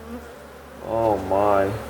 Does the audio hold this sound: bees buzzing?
yes